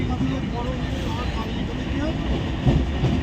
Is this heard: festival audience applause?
no